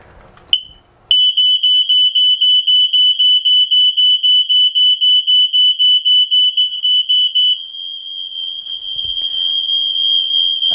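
Interlinked mains smoke alarms in a home sound during a test: a sharp click, then a loud, piercing high beep pulsing rapidly for several seconds before settling into a continuous tone as another unit keeps sounding.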